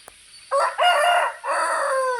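Farm rooster tied outdoors crowing loudly and close, a strong drawn-out cock-a-doodle-doo in two surging phrases after a brief quiet moment, with no voices.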